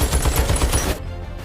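Rapid automatic gunfire from a Gatling gun in an action film, a dense loud burst of rhythmic shots for about a second before cutting off into low rumbling background.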